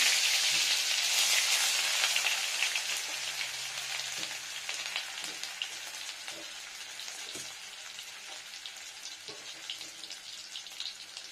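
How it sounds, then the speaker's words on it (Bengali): Ginger paste frying in hot mustard oil, a strong bright sizzle that slowly fades to a softer steady hiss, with a few faint clinks of a utensil. "দেখুন দিয়ে নিচ্ছি আদা বাটা। তেলটা গরম হয়ে গেছে।"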